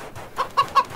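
A cartoon chicken in the video game CHKN clucks four times in quick, evenly spaced succession, each a bright, close, moderately loud cluck rising out of a quiet background.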